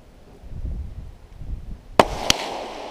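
Tikka T1X rifle in .17 HMR fired outdoors in wind: two sharp cracks in quick succession, about a third of a second apart, after a stretch of low wind rumble.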